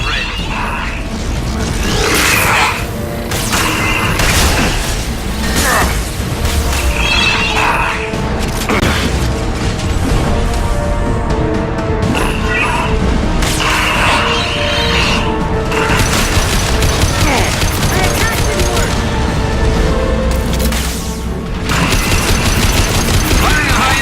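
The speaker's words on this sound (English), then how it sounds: "Firing anti-ship batteries at collector vessel." Anti-ship batteries firing at a Collector vessel in the Mass Effect game, loud continuous volleys of heavy gunfire and booms running throughout, dense and sustained with repeated bursts and whooshes layered over a battle soundscape.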